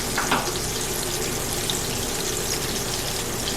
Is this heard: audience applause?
no